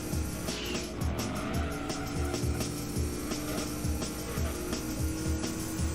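Race car tires squealing and skidding in the Gran Turismo 2 video game, continuous screeching over a steady engine drone with repeated rhythmic chatter, loud and close, no talking.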